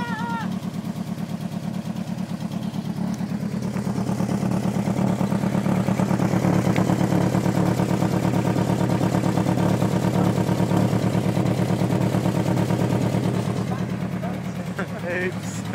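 A Mk2 VW Golf with a draw-through turbo and a tacked-up exhaust that blows heavily runs close by, its engine note swelling in the middle and easing off again, raspy and uneven throughout, while people talk over it.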